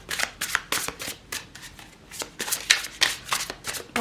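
Tarot cards being shuffled in repeated quick riffling bursts, close and fairly loud, with no talking over them.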